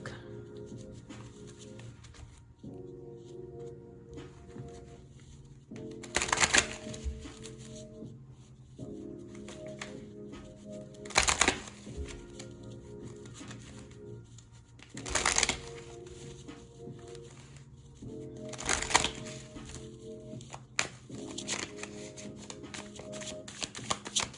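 A deck of cards, oracle or tarot style, shuffled by hand in repeated riffling bursts, several sharp clattering flurries spaced a few seconds apart over soft background music.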